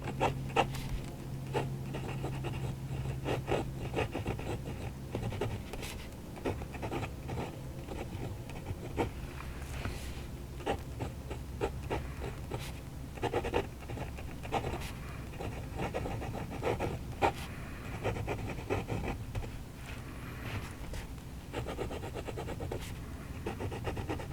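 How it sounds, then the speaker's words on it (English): Scratchy nib of a Hongdian 1837 Magpie fountain pen writing on paper, a steady close-up rasp of strokes with soft taps running continuously for about twenty-four seconds. "Let's see how the pen writes."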